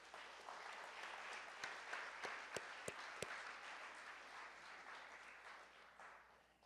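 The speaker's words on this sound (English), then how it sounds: "So one big round of applause for our coaching staff." Audience applause at an awards event, a broad wash of clapping that holds steady for several seconds before slowly thinning, with a few sharper individual claps standing out.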